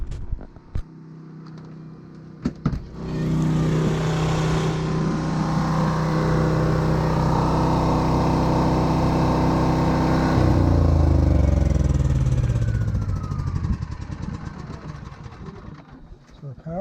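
A Champion 3400-watt dual fuel generator runs with a loud, steady engine drone that swells and then settles partway through, with a few knocks at the start and a slowly fading tail.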